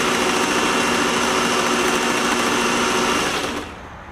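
A Singer 503A sewing machine runs a ribbon stitch with a loud, steady, close-up mechanical whir that winds down near the end.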